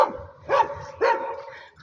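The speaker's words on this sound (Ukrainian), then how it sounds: "Собачок ми не боїмось, не гавкай, не гавкай." A guard dog on a rural property with horses and birds barks three times in quick succession, short mid-pitched woofs at moderate distance over quiet outdoor background.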